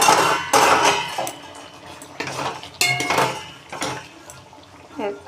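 Metal lid lifted off a cooking pot of potatoes and drumsticks simmering for a posto dish, with sharp clinks and clatters of metal on metal in several separate bursts, close by.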